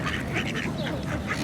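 A short burst of close duck quacks from the Queenstown gardens, a few rapid calls in quick succession over low background noise.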